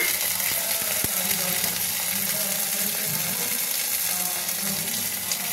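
Onion, ginger and cumin paste fries in a pan with a steady, loud sizzle that fills the whole clip, broken by a few faint stirring knocks, with no one speaking.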